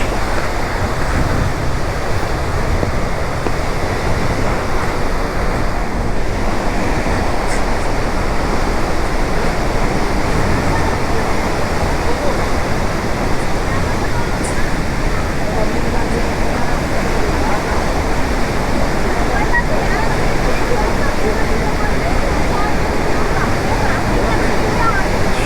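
Devi's Falls waterfall in Pokhara, Nepal, heard from the edge of a viewpoint, gives a steady, loud, unbroken roar of rushing water, with wind buffeting the microphone throughout.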